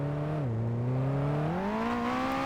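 Steady droning hum of a stock police car with a CVT in a BeamNG.Drive driving game, a continuous whiny engine tone that dips briefly then climbs gradually in pitch as it accelerates, heard alone.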